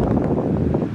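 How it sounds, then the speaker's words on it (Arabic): Wind blowing in off the white-sand coast in Morocco under a wintry sky, a loud, steady buffeting roar rushing close against the microphone for under a second. "وكاين هذا الريح كيجي من الشاطئ الابيض"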